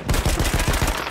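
Battlefield 1 video game gunfire: a fast, loud machine-gun burst of about eight to ten sharp regular shots, close and continuous for about a second.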